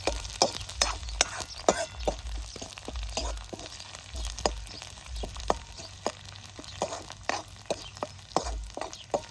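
Garlic and coconut roast in a pan, giving off a light dry crackle under frequent sharp scraping and tapping from stirring, irregular and close.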